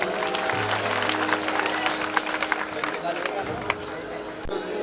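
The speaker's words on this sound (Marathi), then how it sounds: "त्यांच्यासाठी एकदा टाळ्यांचा आवाज होऊ द्या" An audience at a live stage show in Jalgaon breaks into scattered clapping that keeps up throughout, with a voice talking loudly over it.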